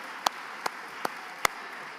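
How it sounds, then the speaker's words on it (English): Four sharp, isolated claps ring out roughly every 0.4 seconds over a quiet room at a Biafra independence restoration gathering, a sparse, slow rhythm rather than full applause. "Clap for yourself. Clap for yourself."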